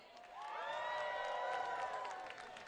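A roller derby crowd cheering and whooping at a bout, a swelling burst of voices that rises, holds for about two seconds and then fades.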